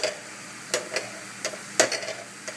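Venison browning in a pan for crockpot chili: a few spoon-stirring scrapes and clatters sit over a faint, steady sizzle, close by and fairly quiet.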